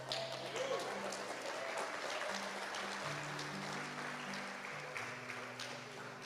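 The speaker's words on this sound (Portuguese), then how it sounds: "Pode aplaudir o Senhor, amém?" A church congregation applauds steadily at moderate distance, a continuous crackle of clapping that swells briefly near the start and holds evenly to the end, with a low sustained keyboard or organ tone beneath.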